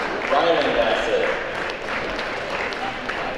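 An audience at a grade 9–11 school awards program claps for a student, a crowd's applause swelling briefly and then settling into steadier, thinner clapping, with faint voices mixed in.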